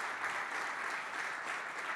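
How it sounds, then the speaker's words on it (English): A crowd applauds at a hackathon closing ceremony in London, a dense, even wash of clapping that holds steady at moderate volume from start to finish without speech. "So a round of applause, please."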